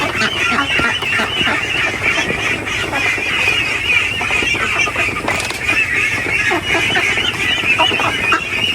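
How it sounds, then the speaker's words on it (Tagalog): Ducks on a duck farm quack and honk continuously as a dense, loud flock close by, with overlapping calls throughout and no clear talk. "So ito yung mga nauna nating itik."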